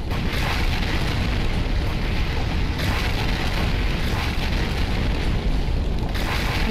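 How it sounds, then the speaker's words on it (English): An ICBM detonation in the Minecraft RivalRebels mod roars as a dense, continuous rumble, loud and sustained across the whole stretch, with no talking. "And now you get your proper explosion sooner."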